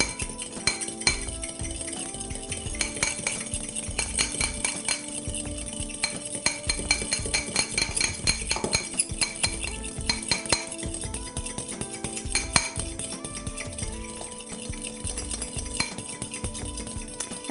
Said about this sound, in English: all you do is mix everything together thoroughly